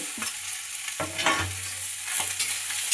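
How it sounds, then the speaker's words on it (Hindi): Onions added to hot oil in a kadai, soft frying sizzle with a few stirring scrapes and clatters of the spoon, close and moderately loud, no talk. "कढ़ाई में तेल डाल दिए हैं और डाल रहे हैं प्याज।"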